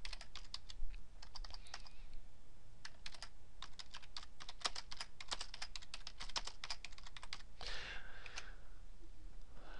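Rapid typing on a computer keyboard while working in an Excel spreadsheet, a steady stream of close, crisp key clicks lasting several seconds, ending in a brief rustle.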